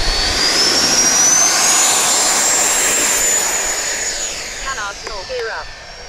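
A Freewing Eurofighter 90mm electric ducted-fan RC jet takes off with a loud, steady high-pitched whine that rises in pitch and then slowly fades as it climbs away.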